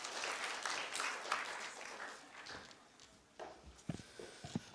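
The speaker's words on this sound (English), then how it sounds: "Let's have a round of applause as we welcome him on stage." Brief applause from a small crowd at a business forum in Nepal fades out, followed by a few footsteps and light knocks.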